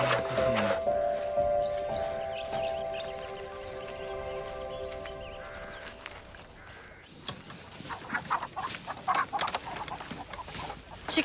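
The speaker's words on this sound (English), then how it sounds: "Chickens have been laying real good since you got here." Chickens cluck and cackle close by in a rural Wild West farmyard, short irregular calls over background ambience and a faint rain-like patter, with no talk.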